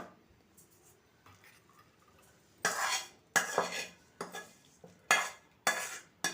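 Tender okra pieces pounded in a stone mortar for a rustic chutney, a quiet stretch giving way to about six loud, close, rhythmic thudding strikes with scraping grit between them.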